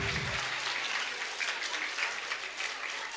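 Sustained applause from a crowd at a school annual day celebration, a dense wash of clapping that holds evenly for a few seconds.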